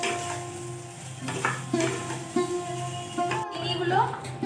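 A spoon stirs salt into a cooking mixture in a pan, with soft scraping and light sizzling over a steady background hum and a few faint clinks.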